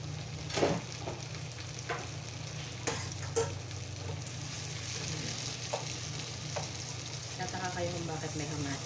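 Onion and tomato sauté in a hot pan, a continuous bright sizzle with a low hum beneath and scattered spoon or spatter clicks, close by and without talk.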